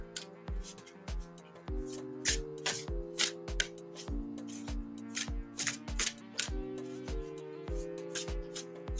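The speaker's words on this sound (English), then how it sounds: "I usually shuffle until a couple cards pop" Tarot cards are shuffled by hand in a rapid series of crisp riffling and slapping strokes, close and fairly quiet, repeating with a loose rhythm throughout.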